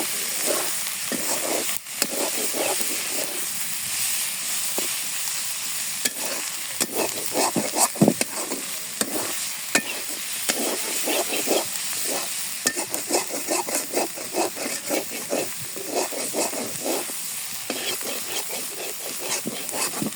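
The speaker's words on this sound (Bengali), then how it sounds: "কারণ শাক দিয়ে দিই।" Leafy greens frying in a hot pan in a village kitchen, a constant hissing sizzle punctuated by frequent, busy scraping and stirring strokes, close and steady with no speech.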